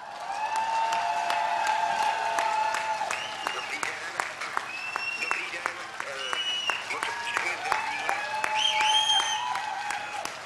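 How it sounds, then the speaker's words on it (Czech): Large audience at a Senate election campaign event bursts into loud, sustained applause mixed with cheering and crowd voices, steady throughout. "Následoval obrovský aplaus"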